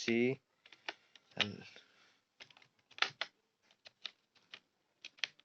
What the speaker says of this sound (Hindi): हमें टाइप करना है क्लीन